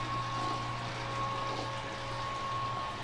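Steady, quiet hum of a small pump moving beer wort from a brew kettle into an 8-gallon stainless steel bucket, with a constant tonal whine and soft liquid rush and no talking.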